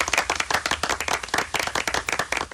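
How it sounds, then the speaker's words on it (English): A radio host claps for a caller in a studio, a quick, steady run of close, crisp hand claps that continues without a break and has no talk over it. "I'm going to give you a round of applause for that"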